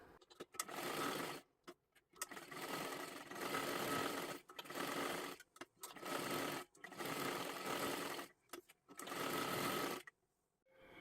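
A sewing machine stitches a full puff sleeve in several bursts of rapid, steady whirring, each a second or two long, separated by short pauses and quieter handling sounds.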